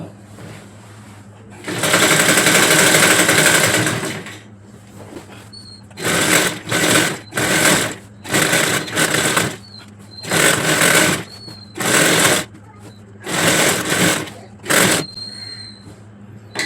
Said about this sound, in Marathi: शिलाई मारून की आपण बरोबर सरळच्या सरळ अर्धा इंचावर ना शिवत जायचं.